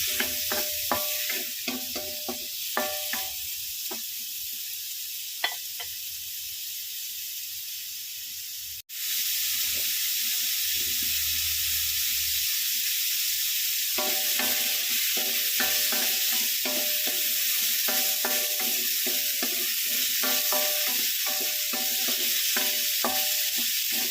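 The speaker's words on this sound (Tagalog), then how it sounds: "Kasi medyo matigas po ang sayote, kaya inuna ko po ito siyang igisa." Chunks of chayote sauté in a hot pan with a steady hiss, while frequent clattering stir strokes come and go and one quieter stretch falls in the middle.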